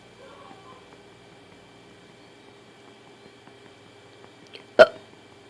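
A baby burps after a feeding: one short, sharp burst near the end, after several seconds of quiet room hum with faint soft sounds.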